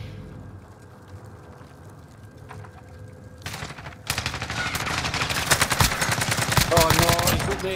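Automatic and single gunshots from Call of Duty: Modern Warfare gameplay, quiet at first with a few isolated shots, then a sudden loud burst of sustained rapid fire that keeps building to the end.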